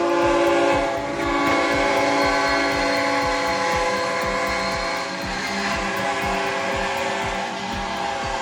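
An approaching Ferromex freight train sounds a loud sustained multi-tone horn over the rumble and rhythmic clatter of wheels on rail, near and powerful throughout.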